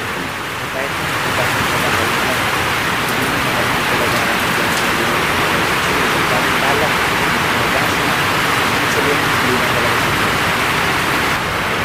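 A downpour of heavy rain roars continuously for about twelve seconds, close and loud, a thick unbroken hiss with patters of drops on surfaces and faint speech buried underneath.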